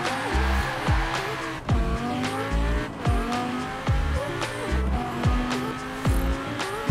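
Tires squeal and skid in a driving video game with safety assists and ABS switched off, as the car's engine drones underneath in repeated surges.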